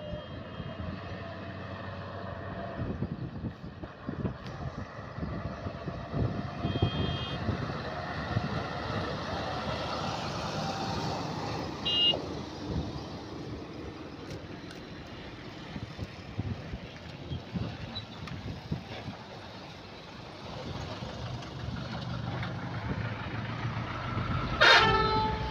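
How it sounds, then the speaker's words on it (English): A heavy Bedford oil truck engine in Pakistani style rumbles steadily for a long stretch, with a horn tooting briefly near the end. "Pakistani style truck, Bedford oil truck."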